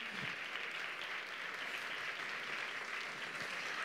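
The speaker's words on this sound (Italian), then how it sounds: "non fate mancare mai gli applausi a loro" An audience at a youth singing talent contest claps for a 14-year-old singer, a steady wash of applause heard at a modest distance and fairly quiet, unbroken from start to finish.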